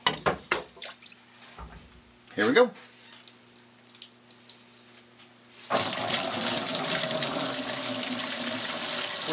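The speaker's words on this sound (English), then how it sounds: "We'll go ahead and dump our wort in," Homebrewed ale wort poured slowly from a kettle through a sanitized strainer into a clean bucket, heard as a steady loud rushing splash of liquid that starts abruptly after a few knocks, clanks and a brief spoken line.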